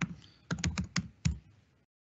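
A password being typed on a computer keyboard: several distinct, close keystrokes in an irregular burst with short pauses, no voice over them.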